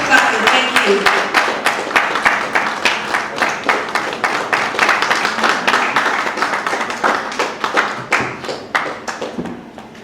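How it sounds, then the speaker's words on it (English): Sustained audience applause and clapping at a live magic show, a dense, steady patter of many hands close by that carries on for the whole stretch before tapering off at the end, with a few voices mixed in. "Just keep clapping till he gets it."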